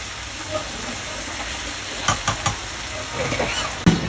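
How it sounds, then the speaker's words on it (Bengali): Beef sizzling on a hot plate hisses steadily throughout, broken by a few sharp crackles and spits toward the end, close and fairly loud. "এই হয়ে গেল বিফ সিজলিং"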